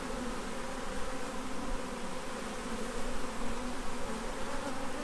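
Package honeybees in a newly installed hive hum with a dense, steady buzz throughout, close and continuous with slight swells in loudness, no voices over it.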